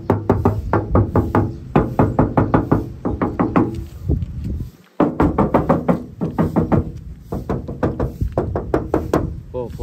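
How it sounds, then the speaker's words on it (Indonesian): Knuckles rap on the rear steel body panels of a 2006 Suzuki Katana GX last edition, in rapid bursts of loud, close knocks with a brief pause midway, and someone talking between them. "Kita ketok bagian belakang."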